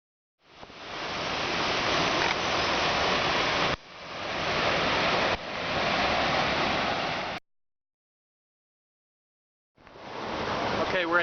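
A river at the Spence Ridge crossing in Linville Gorge rushes in a steady, broad wash of water. The flow cuts off abruptly twice, once briefly and once for a few seconds, then resumes.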